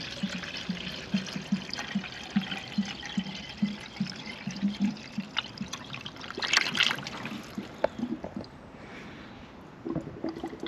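Water trickles and pours into the header tank of a Mk3 Vauxhall Cavalier, a steady close liquid stream with small splashes and knocks, alone with no talk.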